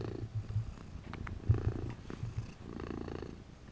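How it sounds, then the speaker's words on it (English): A domestic cat purrs close up in a soft, rhythmic low rumble with pulsing breaths, quiet and alone with no talking. "Listen to that purr."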